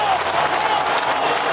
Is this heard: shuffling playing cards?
no